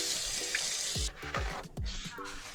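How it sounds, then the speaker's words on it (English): Tap water runs into a kitchen sink while hands are washed. It makes a soft, steady rushing hiss broken by a few splashing, clattering knocks, faint and fairly close. "let me wash my hand real quick"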